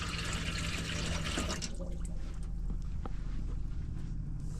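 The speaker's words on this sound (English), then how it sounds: "Can anyone tell me why sinks are so slow to go down?" A motorhome sink drains slowly: steady, close running and gurgling water that holds throughout, with faint drips and small knocks on top and no talk.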